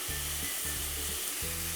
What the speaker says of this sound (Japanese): もやしが鍋肌に当たるようにして、